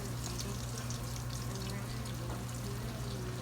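Eggplant slices fry in oil in a pan with a steady, even sizzle and a low hum beneath it, close by and continuous.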